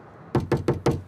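Police knock on a door, four firm, evenly spaced thuds in quick succession, close and loud against a quiet room.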